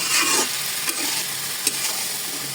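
Dried jujubes (boroi) are stirred around a hot pan to dry off clinging water, giving a continuous close sizzle with soft scraping and a couple of brief clicks of the utensil against the pan.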